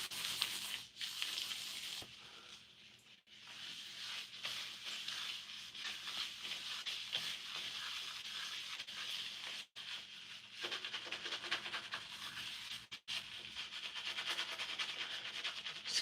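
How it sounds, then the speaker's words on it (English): Hair gel squeezed and rubbed through hair, a close, soft continuous rustling and squishing with brief pauses as hands work it through. "Squeezing it to distribute it, rubbing it from every direction."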